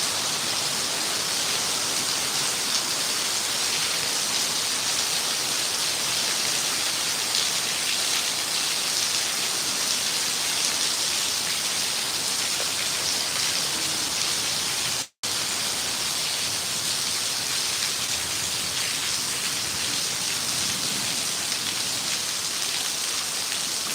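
Heavy rain pours down steadily and loudly, a dense unbroken hiss of drops hammering surfaces nearby, with one brief dropout midway and no voices.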